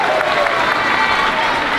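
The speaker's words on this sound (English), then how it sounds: "have a nice round of applause" Audience at a fifth-grade moving-up ceremony applauding the school safety patrol: steady, crowded clapping from many hands in a hall, even and sustained for about two seconds, with light crowd murmur mixed in.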